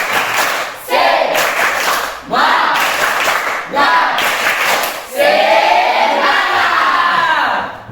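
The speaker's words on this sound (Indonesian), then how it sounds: "Tepuk semangat." A classroom group chants and claps in rhythm, with loud repeated bursts of voices and hand claps coming in waves, near and energetic.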